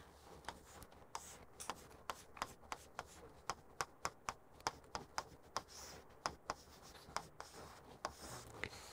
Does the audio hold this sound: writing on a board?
yes